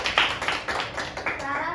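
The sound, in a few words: class applauding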